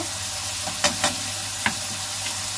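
Garlic and ginger paste fries in a hot pan with a dense, even hiss, broken by a few quick scraping stirs.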